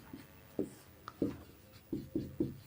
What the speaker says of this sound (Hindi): चलिए चलिए जल्दी जल्दी आप लोग लिखते जाइए